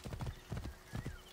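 Hoofbeats of a galloping horse in Assassin's Creed Origins, clustered in quick bursts of three or four thuds, loud and near, with little else around them.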